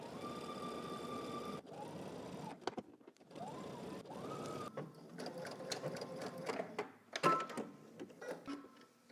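Home sewing machine stitching a garment seam from the hem upward with a 5/8 inch allowance, running in steady motorized bursts with short pauses between, followed by fabric handling and rustling noises near the machine.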